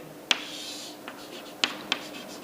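Pencil or pen on paper while drawing a technical drawing: a few sharp, close taps and short scratching strokes, with light faint writing between them, and no talk.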